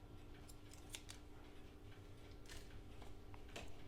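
Scissors snip through a length of twine while stitching a single-signature journal, several faint, sharp clicks and cuts spaced across a quiet background with no talking.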